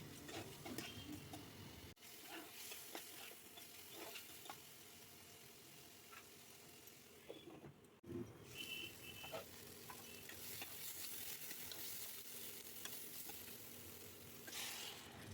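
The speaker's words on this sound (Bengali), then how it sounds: "মশলাটা কিছুটা ভাজা ভাজা হয়ে গেলে একটা লঙ্কা আর দুটো আগে থেকে কুচিয়ে রাখা আলু এর মধ্যে দিয়ে দিলাম" Potatoes and a chili fry with spices in a pan for a Bengali vegetable curry, a faint, steady low sizzle with occasional light stirring clicks and scrapes throughout, and no one speaking.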